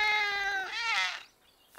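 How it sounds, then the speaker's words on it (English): A cartoon kitten lets out a single high, drawn-out meow that rises and fades, close and clear with no talking over it. "Oh, it's a baby cat."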